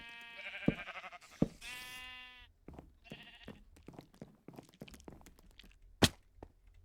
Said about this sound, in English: I'm sorry if these sheep are really annoying for you guys.